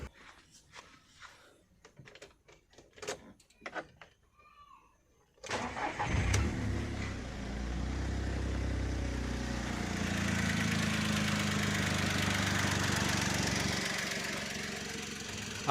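A VW Polo with a battery charging fault. A few faint clicks and knocks come first, then the engine cranks and fires and settles into a steady, even idle that runs close and loud to the end.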